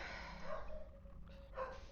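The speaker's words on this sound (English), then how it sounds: "Freaking dogs." Dogs barking faintly in the background, a few soft yips and barks, distant and quiet with low rumble underneath.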